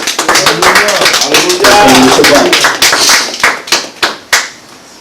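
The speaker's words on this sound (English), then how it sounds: "let's give Almighty Yah another hand clap praise" A congregation at a Shabbat service claps hands in praise, a loud, close run of rapid, uneven claps that thins out into a few scattered final claps.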